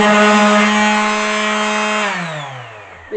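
A power sander works on antique wooden furniture during restoration, giving a loud, steady motor whine that spins down and drops in pitch after about two seconds, with a small knock at the end.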